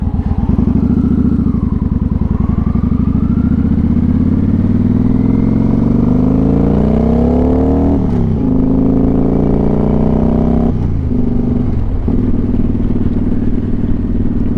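A custom motorcycle engine idles and revs close by, loud and gritty, rising and falling through several throttle blips that sweep up in pitch before dropping back, with no voices.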